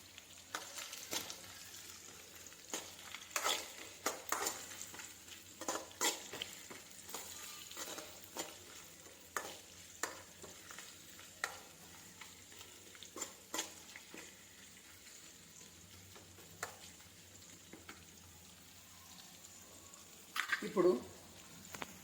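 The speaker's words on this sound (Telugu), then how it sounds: "వేరుశనగపల్లి అండ్ పుట్నాల పప్పు, దీన్ని లో ఫ్లేమ్లో ఫ్రై చేయాలి" Peanuts and roasted chana dal frying on a low flame for poha, with a faint, quiet sizzle and occasional stirring clicks and scrapes, and a person talking over it.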